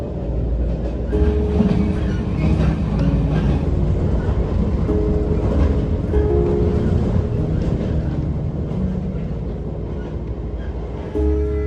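A train rolls steadily along the rails in Japan with a continuous rumble and rhythmic clacking, heard from inside a carriage with red seats, loud and unbroken throughout.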